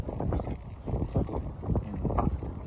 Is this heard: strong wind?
yes